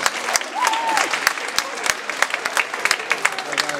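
Dense, sustained applause from an audience at a student charity school concert, loud and close, with a voice speaking over the clapping.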